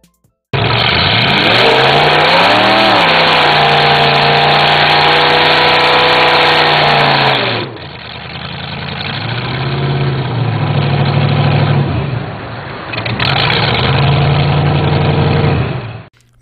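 A 1965 Chevy C10 with a supercharged 350 V8, Weiand 177 blower, roller rockers and nitrous revs hard and loud, its pitch sweeping up and down, then drops to a rough, lumpy idle between further bursts of revving.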